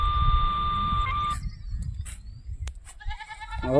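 A goat bleats at a shepherd's camp on a hillside in the morning. A steady whistling tone comes first, then a short, loud bleat sounds close by near the end.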